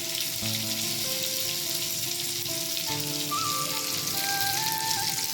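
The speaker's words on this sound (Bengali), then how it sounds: "বেগুন একটু ভেজে নিচ্ছি" Eggplant frying in a pan, a steady dense sizzle throughout with some faint tonal clatter in the background, no talking.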